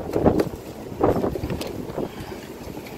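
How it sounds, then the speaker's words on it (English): Bursts of wind buffet the microphone, with a loud rushing gust near the start and another about a second later, then a steadier blustery rumble. "A strong gust of wind."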